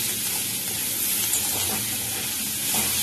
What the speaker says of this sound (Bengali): পেঁয়াজটা এবার অলমোস্ট ভাজা হয়ে এসছে, এরকম একটু লাল লাল করে ভেজে নিতে হবে